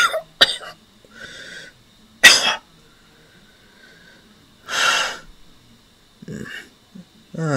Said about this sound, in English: See, you're still coughing.